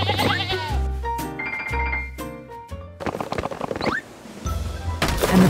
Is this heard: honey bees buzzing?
no